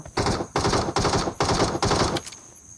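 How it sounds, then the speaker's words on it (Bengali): Rapid gunfire in a battle royale shooter, solo against a squad: five or six loud, evenly spaced bursts in a steady rhythm, close and dominant with no talk. "AWM এর হেডশট ডায়নামো স্টাইলে।"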